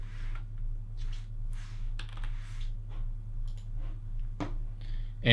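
Fingers type on a computer keyboard: a short run of quiet, close key taps spread unevenly over a steady low electrical hum.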